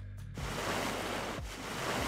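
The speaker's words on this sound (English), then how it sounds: "So we need to dodge the waves?" Ocean waves surge and wash continuously in Age of Mythology: Retold, a broad loud rush of surf with two heavier crashing swells, steady with no voices.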